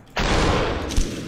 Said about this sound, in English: Oh, God, someone else is shooting.